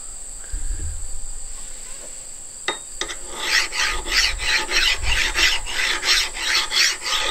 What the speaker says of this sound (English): I'm using a mill file on this axe, and a mill file is designed to cut both directions